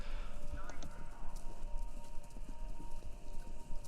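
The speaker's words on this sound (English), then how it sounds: "Sounds like horses? Running horses?" Galloping horses in the video game Kentucky Route Zero, a muffled rhythmic clip-clop of hooves over a low rumbling bed, fairly faint and distant, with a steady hum beneath.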